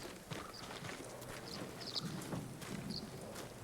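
Horse hooves clip-clop at a walk in the video game Ghost of Tsushima, a soft, fairly distant rhythmic patter under light wind, with no talk.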